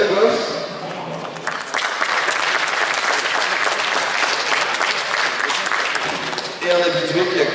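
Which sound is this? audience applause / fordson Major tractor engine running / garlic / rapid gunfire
audience applause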